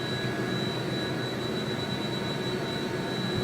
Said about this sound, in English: let's go ahead and bring the helicopter up to a high elevation here